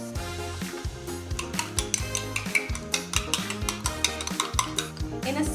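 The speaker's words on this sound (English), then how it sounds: "we need to whisk the eggs first" Eggs whisked in a bowl for a Korean dish, a quick, steady run of light rhythmic clicks and scrapes close by, over a constant tonal background.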